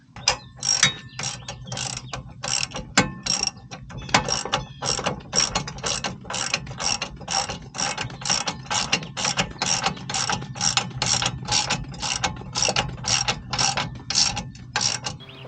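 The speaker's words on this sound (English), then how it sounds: "So let's get this tightened up and torqued down." A ratchet wrench tightens and torques down a nylon lock nut on a trailer hitch, giving fast, close repeated clicking bursts in a steady rhythm throughout.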